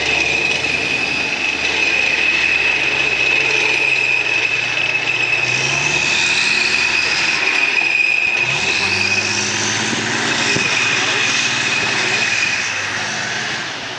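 An M110 self-propelled howitzer drives at Bovington, its loud, steady engine drone carrying a high whine and shifting gear tones throughout, close and without talk.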